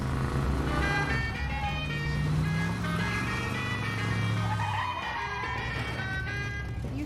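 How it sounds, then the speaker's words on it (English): A stolen taco truck pulls up in a scene from the TV series Gotham Knights, a loud engine and road rumble with a jingly chime-like melody running throughout. "arrives just in time in a stolen taco truck"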